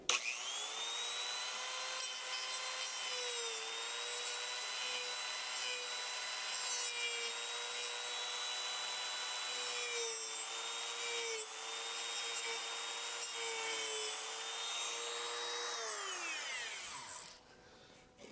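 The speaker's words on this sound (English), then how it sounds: "I'm going to use an abrasive blade on my Dremel to see if I can take these out" A Dremel rotary tool fitted with an abrasive cutting blade whines steadily as it cuts out wooden dowels on a split-wood rocking chair being restored, a high continuous grinding pitch that dips slightly under load before stopping near the end.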